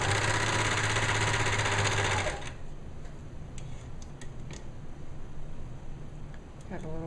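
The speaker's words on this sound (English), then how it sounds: "Okay, and we're going to serge that." A serger runs loudly with a steady mechanical buzz while sewing a seam on a girl's bereavement gown, then stops after about two seconds, leaving quiet room tone with faint ticks.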